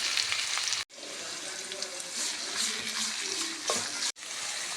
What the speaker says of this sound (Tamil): பொடி பொடியாக நறுக்கி வைத்துள்ள சிறிய வெங்காயத்தை சேர்த்து நன்றாக வதக்கவும்